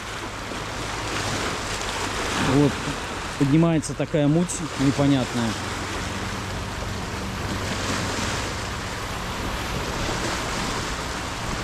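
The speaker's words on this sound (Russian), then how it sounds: "Сейчас бьют волны." Waves break on the Lake Michigan shore in Milwaukee, a steady broadband wash of surf and wind that runs the whole time, with someone talking briefly over it partway through.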